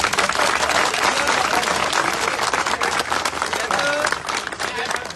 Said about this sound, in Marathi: या दोघींसाठी प्रचंड टाळ्यांचा गजर आपण करूया।